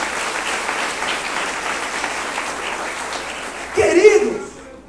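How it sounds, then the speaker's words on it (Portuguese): A church congregation applauds during a Portuguese-language service, a sustained wash of clapping running throughout, with a voice rising loudly over it near the end. "Você pode aplaudir o Senhor?"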